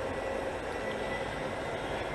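Inside a moving metro train, a steady low rumble and hiss of the carriage fill the space without interruption or voices.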